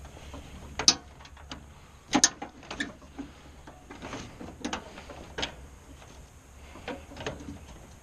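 A bolt is threaded by hand into the gear housing of a riding lawn mower while a drive belt is replaced, a series of small metallic clicks, scrapes and ratcheting taps, close and fairly quiet, with no talking.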